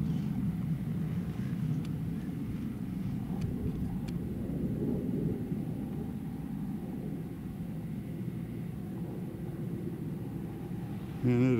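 A jet aircraft passes overhead near the ruins of an Old West mining ghost town, a steady low roar filling the whole stretch with a soft voice briefly underneath.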